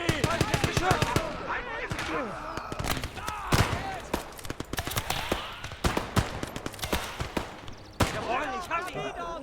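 Dense battlefield gunfire from the Kampfgruppe war game: rapid overlapping shots and machine-gun bursts with heavy impacts throughout, mixed with shouting voices.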